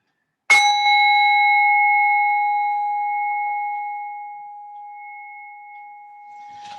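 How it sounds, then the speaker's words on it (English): A single clear bell strike rings out during a yoga practice and sustains, its pure tone slowly fading over several seconds in otherwise quiet surroundings. "in a moment you'll hear the sound of the bell once again."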